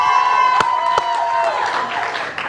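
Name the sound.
studio audience applause welcoming Ahmad Dhani on a talk show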